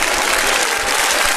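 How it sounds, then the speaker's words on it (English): Steady applause from an audience celebrating someone earning a commercial driver's license, a dense continuous patter of clapping at even loudness throughout with no voices over it. "You know, you get an applause for that."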